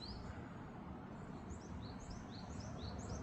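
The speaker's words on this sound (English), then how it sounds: "Sparrows on the barricade." Small chirps from sparrows perched on a barricade near a coastal observation deck in Japan, a string of short high calls, faint and fairly distant, over a constant broad outdoor rumble.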